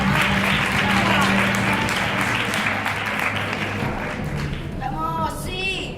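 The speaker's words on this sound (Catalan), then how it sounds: "Un fort aplaudiment per els Spider." An audience applauds the Spider dance group at a show, with loud, dense clapping that gradually thins while voices shout and cheer over it near the end.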